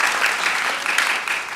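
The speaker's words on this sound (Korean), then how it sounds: "우리 박수로 우리 한번 환영하도록 하겠습니다" A church congregation claps together to welcome a newcomer during a Sunday morning service, a steady, dense wash of applause from a gathered crowd that holds evenly without voices.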